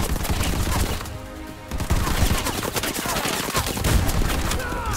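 Rapid machine gun fire and bursts of gunshots from a sci-fi shooter game, loud and close, running almost continuously with a short lull partway through.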